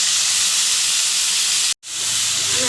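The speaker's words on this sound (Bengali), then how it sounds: "আমি একটু আলুটা ভেজে নেব" Potato pieces frying in hot oil in a pan for Bengali aloo posto give off a loud, steady hissing sizzle that cuts out for a moment before resuming.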